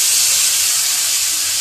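Chopped tomatoes sizzle in a pan of browned onions, cumin and coriander powder while a shrimp dish is being cooked. A loud, steady, close hiss of steam and frying continues without a break.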